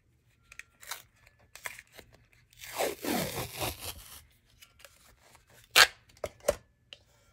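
Paper tape is torn and pressed onto journal cover pieces, with scattered crinkles, a longer rustling tear in the middle and a few sharp rips near the end, close and alone without talk.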